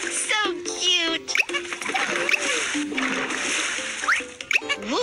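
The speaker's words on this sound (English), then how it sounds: "It's time to rinse off the bubbles." Splashing water rinses soap bubbles off Bingo, a pet dog, in a kids' pet-care video game, a bright liquid whoosh set among cheerful game sound effects and chimes.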